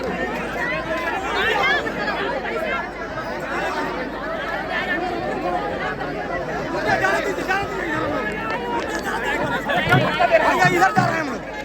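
A dense crowd at the Mahakumbh pilgrimage gathering, with constant overlapping chatter and murmuring voices filling the space, steady and moderately loud.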